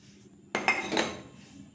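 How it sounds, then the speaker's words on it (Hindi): A mashed potato and chana dal kebab mixture mixed in a bowl gives a short burst of clinks and scraping against the bowl, close and brief. "अब हम इनको अच्छी तरह से मिक्स करेंगे और स्पाइसेस जो हैं वो आप अपने टेस्ट के मुताबिक यूज़ कर सकते हैं"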